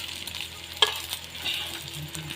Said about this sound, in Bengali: আবার পরের ডিমটাকেও আমি ঠিক এইভাবেই ভেজে নেব